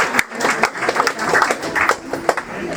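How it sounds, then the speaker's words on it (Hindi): Guests at an engagement ceremony break into applause for the couple, a lively burst of many claps with sharp individual hand strikes standing out, fairly loud and close, with faint voices mixed in. "जोरदार तालियां हो जाए बंधुजन"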